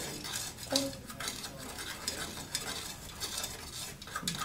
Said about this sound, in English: Let me give it a quick stir, make sure everything's dissolved in there as best we can